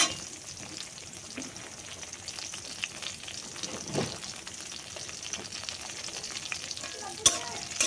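Garlic and onions fry in hot oil for a hilishe lej bhorta (hilsa tail mash), giving a steady close sizzle throughout with occasional stirring scrapes and a sharp clink near the end.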